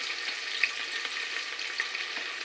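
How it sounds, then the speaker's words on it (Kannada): Onions frying with cardamom in oil for a simple biryani, a steady close sizzle with a few brief crackles and no voices. "ಇವಾಗ ನಾನು ಆನಿಯನ್ ಹಾಕ್ತಾಯಿದ್ದೀನಿ. ಆನಿಯನ್ ಸ್ವಲ್ಪ ಚೆನ್ನಾಗಿ ಫ್ರೈ ಮಾಡ್ಕೋಬೇಕು."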